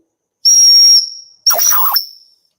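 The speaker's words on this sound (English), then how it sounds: "It's a very high-pitched whistle" A very high-pitched whistle blown twice in a shed, two loud piercing blasts of about half a second each that trail off, the second breathier and rougher.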